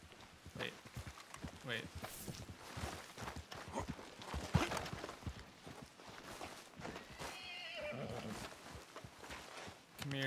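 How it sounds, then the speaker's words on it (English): Horse hooves clip-clopping in the video game Red Dead Redemption 2, a steady walking rhythm of soft thuds mixed with game ambience, with someone speaking briefly over it. "Come here, young horsey."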